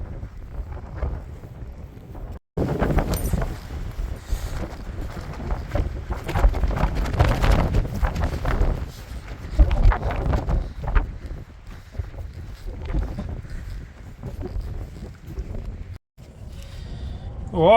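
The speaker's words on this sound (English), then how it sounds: "it's blowing a gale" A strong gale blowing across the mountains of the Main Divide, buffeting the microphone in loud, gusting roars that surge and ease, with brief near-silent breaks, and a voice faintly heard beneath.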